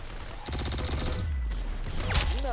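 Rapid automatic gunfire in a Roblox shooter game, a dense burst of repeated shots with synthetic tones and game effects layered over it, loud and continuous.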